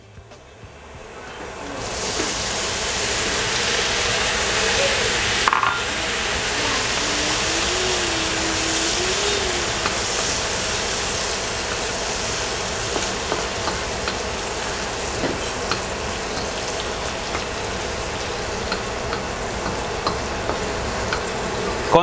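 Mixed vegetables sizzle loudly in a hot pan for Filipino-style fried rice, with a steady, dense crackle that swells in at the start and keeps going. Occasional stirring scrapes and clinks break through the close, continuous frying noise.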